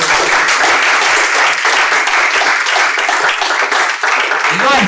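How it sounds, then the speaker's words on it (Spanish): A church congregation bursts into loud, sustained applause, dense clapping filling the room steadily for several seconds with voices mixed in beneath it. "Un fuerte aplauso al Señor Jesucristo"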